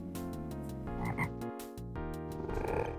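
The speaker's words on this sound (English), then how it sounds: "Oh, the frogs." Frogs croak continuously in the video game Legends of Kyrandia: The Hand of Fate, a rhythmic, layered chorus of low, buzzy calls pulsing steadily and loudly throughout.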